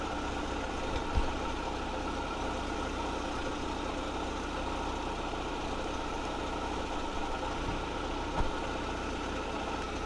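Audi A3 engine idling steadily at low volume after a service and leak repair, with a smooth low hum and a couple of faint knocks.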